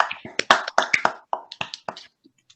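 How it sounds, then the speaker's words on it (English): A few online meeting participants clap briefly, producing sparse, uneven hand claps that tail off into quiet after about two seconds. "maybe everybody can unmute and give her a round of applause"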